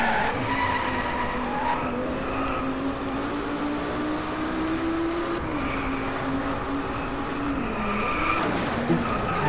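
Car tires skid and squeal through a four-wheel drift in the racing game DRIVECLUB, a loud continuous screech over the droning engine that rises and falls in pitch across the slide.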